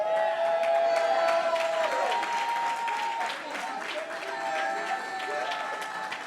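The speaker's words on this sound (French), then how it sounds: "Oh, where's the great applause?" A church audience applauds and cheers throughout, steady crowd clapping with voices mixed in, loudest at first and easing slightly after a couple of seconds.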